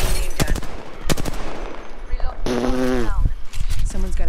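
Gunfire in the battle-royale shooter Apex Legends, duo mode: several sharp shots and short bursts spread across the moment, with a talking voice over the action.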